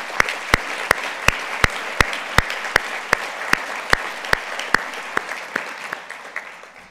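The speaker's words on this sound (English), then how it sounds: "Let's just give them a quick round of applause." Audience applause at an academic retreat keynote, with one near, loud clapper striking at an even, steady beat over softer crowd clapping for about seven seconds, fading slightly at the close.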